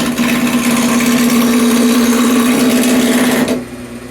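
A machine with a gouge bit runs at low speed, rounding the hard edges of a railroad spike tomahawk. It gives a loud, steady motorized drone with a grinding buzz, then the pitch drops as it winds down near the end.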